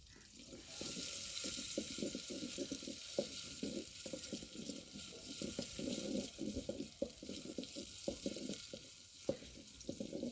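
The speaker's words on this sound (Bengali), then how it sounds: "পেঁয়াজ ভাজা শেষ এখন আলু দিয়ে দিবে" Onions fry in a pan, a steady hissing sizzle broken by rhythmic stirring scrapes, fairly close, with no talking.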